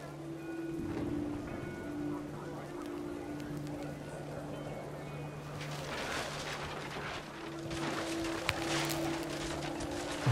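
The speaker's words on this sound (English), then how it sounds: "The rain came down in buckets then" Heavy rain pours steadily in the 2017 video game What Remains of Edith Finch, with low sustained tones droning beneath the downpour, which swells louder in the second half.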